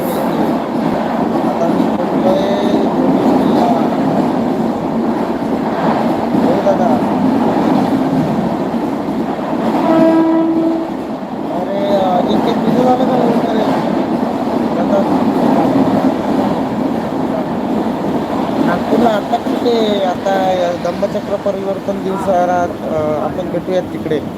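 Mumbai local suburban train heading towards Panvel, a steady loud rumble of carriage motion and rail noise running throughout, with passengers talking over it close by.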